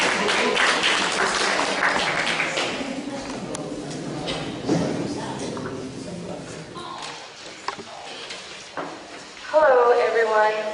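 An audience applauds at a community coalition forum in Richmond: dense, steady clapping fills the first few seconds, then fades as a voice takes over.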